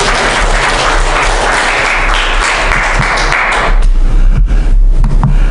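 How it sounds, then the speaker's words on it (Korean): An audience bursts into loud, dense applause that fills the room without pause, sounding close and continuous before thinning slightly toward the end. "박수를 치고 싶잖아요"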